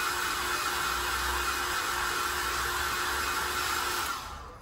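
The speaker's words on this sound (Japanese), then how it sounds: "頭、ヘア乾かす時と同じ感じで、このように動かして温風で熱を飛ばします。" A hair dryer blows warm air into a Louis Vuitton bag, a loud, steady close whoosh of airflow with a thin motor whine that cuts off near the end.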